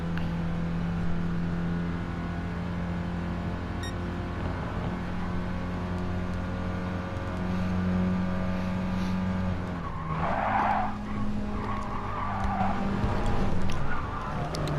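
Mini touring cars in an online racing game at Goodwood sliding sideways, steady engine drone with sustained tire skidding and a louder squeal swelling near the end, no talk.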